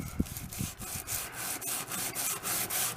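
Rust is scrubbed off an antique wood chisel in a series of rhythmic back-and-forth rubbing strokes, close and fairly loud, with an abrasive, scratchy texture and no talking.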